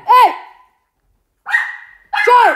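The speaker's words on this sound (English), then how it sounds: "Stop barking!" A dog barks loudly and close by, three sharp barks with a long pause between the first and second and a shorter gap before the third.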